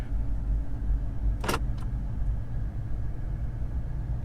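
Interior of a Jeep Gladiator rolling down a residential street while towing a Geo Pro camper, with a steady low road and engine rumble and a brief sharp click or rattle partway through.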